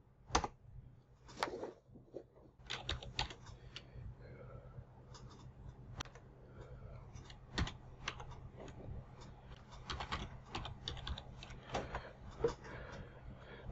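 Someone types a command on a computer keyboard, with quiet, irregular clicks and keystroke taps in bursts at close range and no talking.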